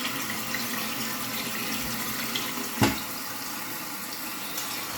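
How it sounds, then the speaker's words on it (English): Water running steadily into a toilet tank as it refills during a running-toilet repair, a continuous hiss and trickle at moderate level with one brief knock partway through. "When it comes in the bottom here, it's filling up this tank."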